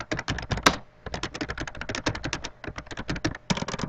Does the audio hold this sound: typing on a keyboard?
yes